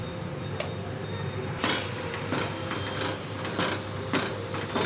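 Spice powders being stirred into boiled peas for batani chaat, quiet scraping and tapping strokes in an irregular rhythm, close by with no talk.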